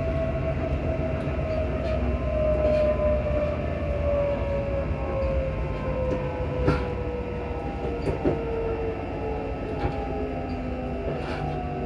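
On board an Alstom Class 334 electric train running between Bathgate and Edinburgh Waverley, a steady loud interior rumble carries a motor whine that slides in pitch, with occasional rail clicks and knocks.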